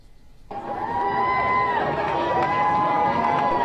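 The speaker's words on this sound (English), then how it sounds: "Thousands of supporters lined Main Street in downtown Northampton, cheering the marchers" A large crowd cheering marchers at the Northampton Pride March on Main Street, the roar swelling in suddenly and holding loud with a sustained shout over broad crowd noise.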